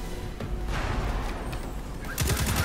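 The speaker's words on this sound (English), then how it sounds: "keep shooting him" Rapid gunfire in Destiny 2 crackles in dense bursts throughout, with heavier, louder volleys near the end and no talk over it.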